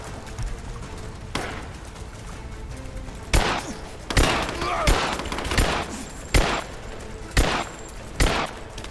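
Gunfire rings out in the Tomb Raider video game, heavy bursts and single booming shots repeating every second or so over a rumbling battle background.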